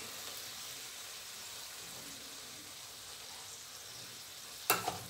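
Food sizzles steadily in a hot pan as onions go in for a stir-fry of chicken giblets with basil, a soft continuous frying hiss ending in a brief sharp clatter near the end.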